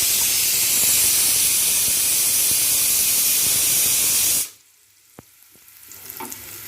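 Mushrooms fry in a pan for an Odia-style mustard masala, giving off a loud, steady sizzling hiss that cuts off abruptly, followed by near silence with a faint clink and a soft low rumble.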